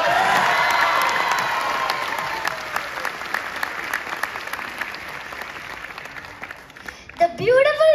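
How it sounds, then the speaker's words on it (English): An audience at a school annual day applauds with scattered cheers and whoops, loud at first and thinning out, before a voice speaks over it near the end. "I think they deserve a great round of applause."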